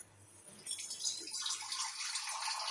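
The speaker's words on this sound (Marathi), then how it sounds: "अजून पाणी घेते" Water poured into an Agri-style bombil (Bombay duck) curry simmering over low heat with browned garlic, a steady close splashing pour that starts after a brief quiet moment and keeps running.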